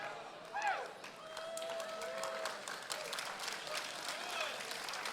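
A live audience claps steadily through a talk event, a dense wash of applause that swells briefly near the start and holds at a moderate level, with a voice and murmurs mixed in.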